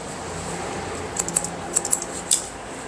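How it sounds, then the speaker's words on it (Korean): Thinning scissors snipping at the roots of hair during a short layered bob cut, a few quick crisp clicks near the end of the stretch over a quiet room hiss. "틴닝 가위로 이제 뿌리 쪽을 조금씩 쳐주는 거네요"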